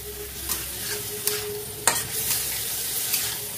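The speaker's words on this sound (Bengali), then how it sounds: "রসুন আদা আর চিকেন তো, এটাকে একটু ভাজা করবো" Chicken with garlic, ginger, pepper powder and salt fries in a pan for Hakka noodles, giving a steady close sizzle broken by periodic scraping stirs.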